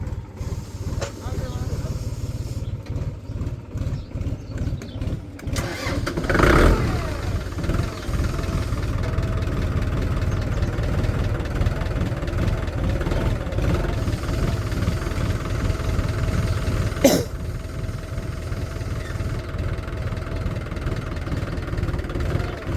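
A Mahindra Arjun tractor engine drones steadily while driving a rotavator through a field, close and continuous across the whole stretch, with a couple of sharp knocks and voices talking over it.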